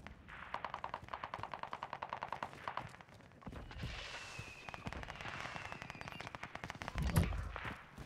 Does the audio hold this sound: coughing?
no